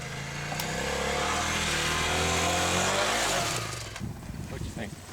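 A BMW X-Challenge motorcycle engine revs up and pulls away, a loud rising drone that swells for a few seconds and then fades as it rides off, leaving rougher low rumble.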